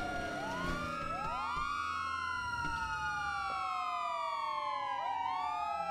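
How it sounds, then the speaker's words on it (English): An emergency siren in a police roleplay video game wails steadily, several rising and falling sweeps overlapping, loud and continuous with no talking. "Are you hearing the sirens?"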